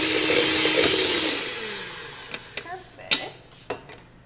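Wet ingredients for a coffee cake batter are blended with an electric mixer, a steady whirring hum for about a second and a half before it stops, followed by a few sharp clinks and taps of the bowl and utensils.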